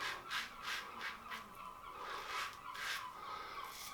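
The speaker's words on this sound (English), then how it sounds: "Bloody seagulls." Seagulls give a string of harsh, honking calls at a moderate distance, several cries in quick succession, faint and unaccompanied by speech.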